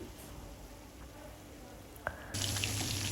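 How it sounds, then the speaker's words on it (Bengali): Katla fish frying in oil in a pan: a quiet hiss, a brief knock as the fish is turned, then a sudden louder, steady sizzle for the final second. "এখন আমি আর এক পাশটা ভেজে নিচ্ছি"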